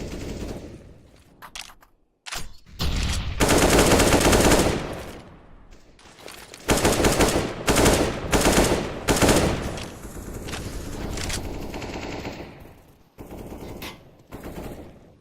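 Bursts of rifle gunfire in a CS:GO match, loud sustained volleys separated by short gaps and quieter stretches, with intermittent shots toward the end.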